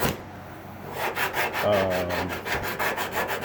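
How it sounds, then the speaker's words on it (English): Rhythmic rasping strokes of sanding on a hard panel, a steady back-and-forth scrape repeating about every quarter second, close up. "all I'm doing is filling those and sanding to the paint surface"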